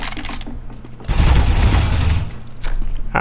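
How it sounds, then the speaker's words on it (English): A flashbang grenade goes off in Counter-Strike: Global Offensive, a loud close blast that fills the middle of the moment with a sustained roar before trailing off into softer game noise. "Ouch. Flashbang."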